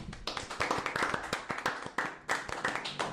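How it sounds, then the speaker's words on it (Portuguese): Brief burst of clapping from a small audience at a Brazilian book club talk, sharp hand claps repeating rapidly and fairly close for about three seconds with no voices over it. "Então, palmas para a MTB."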